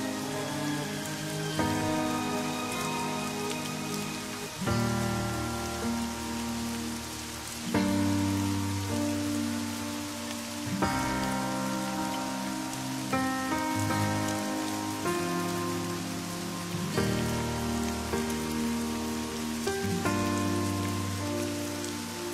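Steady rain falling on a surface, continuous patter throughout, with soft music playing alongside.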